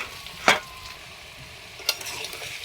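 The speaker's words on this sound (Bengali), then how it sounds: "বেশ কিছুক্ষণ আবারও নেড়ে ছেড়ে ভেজে নেব।" Radish pieces are fried in oil while being stirred: a low continuous sizzle with two distinct spatula scrapes about a second and a half apart, close up and unaccompanied by talk.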